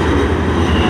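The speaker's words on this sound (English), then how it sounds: "And yeah, the train's here." A train pulls into a station at night in Amsterdam, a loud close rumble of wheels and carriages filling the moment with no talk.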